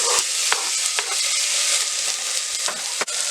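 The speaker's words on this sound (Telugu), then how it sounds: "1 టమాటా వేసుకొని ఫ్రై చేసుకోవాలి." A tomato fries with ginger garlic paste in a pressure cooker for chicken pulao. It gives a steady, close hiss with short, sharp scrapes of stirring now and then.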